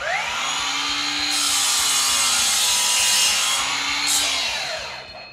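A power saw cuts through a 2x4 wooden board in one loud, close, continuous pass lasting several seconds, its whine rising as the blade bites and easing off near the end.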